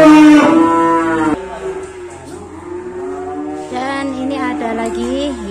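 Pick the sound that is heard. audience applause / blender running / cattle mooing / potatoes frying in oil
cattle mooing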